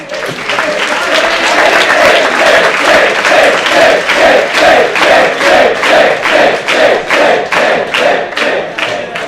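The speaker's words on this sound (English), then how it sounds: "Round of applause for our candidates." At an evening party convention assembly, a large crowd applauds and cheers for candidates, with loud, sustained clapping and a rhythmic, pulsing chant repeating roughly twice per second throughout.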